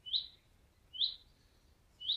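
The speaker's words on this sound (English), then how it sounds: "Gonna have a few bird calls in the background by the sound of things." Wild birds calling outdoors in Devon: three sharp, high chirps spaced about a second apart, fairly clear against a quiet background.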